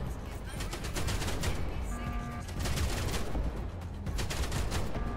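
Base turrets fire in the video game Outpost Infinity Siege as a rapid, continuous burst of gunfire that stays loud and dense throughout, with a brief electronic tone layered in partway through.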